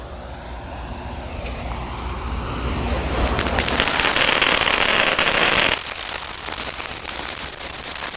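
Small ground fireworks burn on dry hay in an outdoor Fourth of July safety demonstration. A loud, dense hissing crackle builds over several seconds, then drops sharply to a lower, steady sputter.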